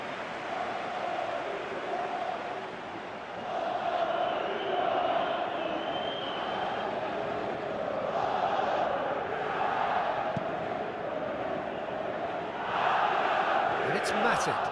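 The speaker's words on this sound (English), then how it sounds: "you can hear how the crowd are reacting to this too" Stadium crowd noise from the PES 2018 football video game, a steady roaring murmur with swelling reactions, loud and continuous throughout under occasional commentary-like voices.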